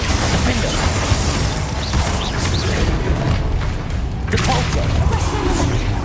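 Combat spells, including Confringo, fire in rapid succession during a Hogwarts Legacy fight, giving continuous dense booms, bursts and crackling effects, with a voice speaking over the din.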